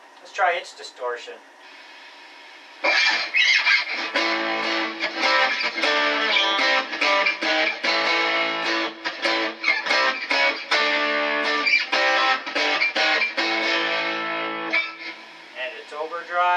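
Distorted electric guitar, a Strat with an Alnico IV pickup running into the distortion effect of a Boss Katana amp, plays a few single notes and then dense chugging chords with steady rhythm, loud and close, with no talking.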